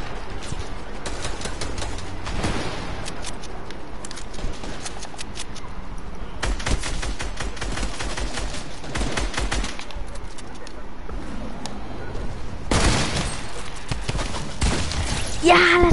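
Fortnite gunfire rattles in repeated rapid bursts across the match, some short and some sustained, with a final loud volley at the end, while players talk over it.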